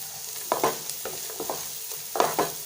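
Finely chopped medium onion sautéing in butter in a pan, a soft steady sizzle broken by a few louder scrapes and clacks of stirring, close by with no talking.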